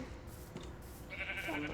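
A sheep bleats in the Minecraft video game, a short nasal cry rising near the end over a low steady background.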